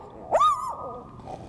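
A person imitates a medium-sized dog with a single short vocal bark-like yelp, loud and close, rising and falling quickly before trailing off.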